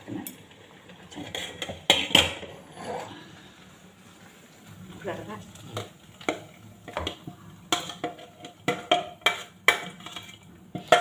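Cooked Bombay halwa is scraped from a pan into a dish with a metal spoon, giving irregular clanks, scrapes and clinks of metal on cookware, some loud and close, with a voice talking in between.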